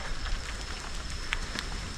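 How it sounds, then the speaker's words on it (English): Steady light rain patters on a surface nearby at a campground in Hillsborough River State Park, a soft even hiss with a few sharper drops, no voices. "And it's starting to rain again."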